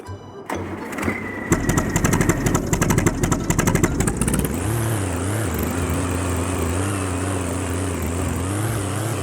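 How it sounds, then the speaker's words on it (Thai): A Kubota tractor engine in Farming Simulator 19 starts with rapid mechanical clatter, then settles into a steady, wavering motor drone while pushing clay soil. "เดี๋ยวจะเอารถไถดันออกนะ"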